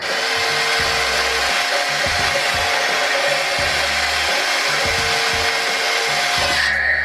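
A continuous whining electric motor of a Huina 1577 RC forklift raising its lift drones loudly with rhythmic pulsing underneath, a small mechanism straining steadily throughout.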